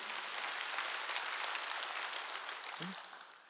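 A church congregation applauds during a Wednesday worship service, a dense, steady wash of clapping that holds loud throughout and then gradually thins toward the end.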